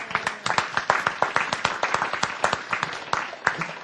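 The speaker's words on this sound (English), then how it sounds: "So give yourselves a round of applause." Attendees at a discussion event on food security and sustainability clap for themselves, a modest cluster of distinct, sharp handclaps in a fairly even patter, close by and moderately loud.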